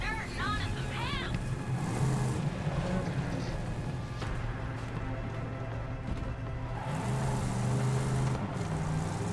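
A car being driven in Borderlands, its engine droning steadily with rising and falling revs mixed into game sounds and a talking voice.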